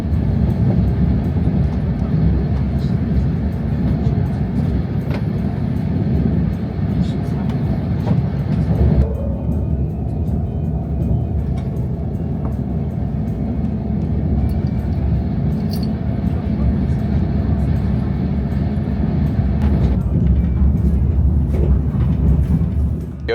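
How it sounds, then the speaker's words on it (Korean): Inside a KTX train cruising on the conventional Gyeongbu line, a steady, heavy low rumble of wheels and carriage fills the cabin at an even pace, with a voice talking over it. "제가 탄 열차는 경부선을 이용하기 때문에 속도를 높이지 않고 통과합니다"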